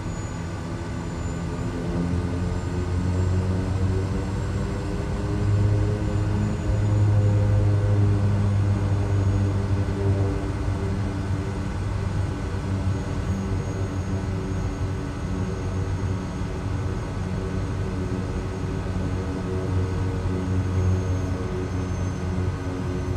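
Propeller airplane taxiing in Microsoft Flight Simulator 2020, a steady, loud engine drone with a low hum and layered harmonics that holds without break throughout, swelling slightly midway.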